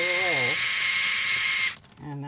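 A portable Shower Gun water pump sprays with a close, steady high-pitched motor buzz that runs for over a second and then cuts out, with someone speaking just before and just after it.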